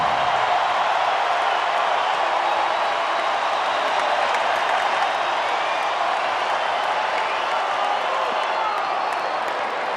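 A huge stadium crowd roars steadily at a San Diego Padres baseball game against the Diamondbacks at Petco Park, fans on their feet with two strikes and two outs, a dense sustained wall of cheering and applause.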